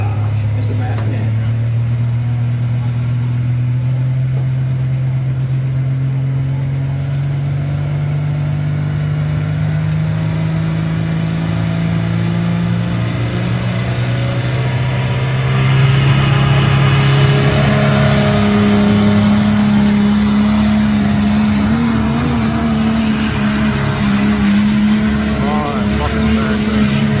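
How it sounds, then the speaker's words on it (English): A Dodge pulling truck's engine drones loud and close throughout a pass at a truck and tractor pull in Monroe County, Illinois, its pitch climbing gradually and swelling louder partway through, with a voice at times over it. "Strong pass there by Mr. Matt Penn on the F.I.R.M machine."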